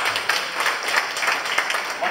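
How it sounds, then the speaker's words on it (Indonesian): A group clapping at a university engineering alumni reunion in Medan, a brisk, fairly loud run of overlapping hand claps with some crowd murmur beneath. "Ini untuk tepuk tangan."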